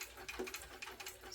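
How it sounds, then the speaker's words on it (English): A sewing machine runs a quick, steady stitching chatter along zipper tape on a backpack, fairly faint and close. "sewing as close as I can to my zipper tape"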